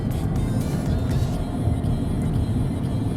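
Tesla Cybertruck towing an Airstream trailer down a 6% grade without braking: a steady, close road rumble and whirring drive noise, continuous with no voices.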